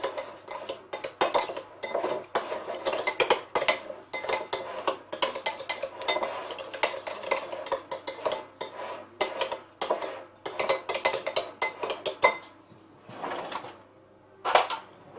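Pork and warm chickpea salad is mixed vigorously in a bowl, producing continuous close clinking and scraping of utensils against the dish, with irregular bursts and brief pauses.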